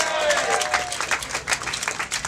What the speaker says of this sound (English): Joanne Simon, give her a round of applause.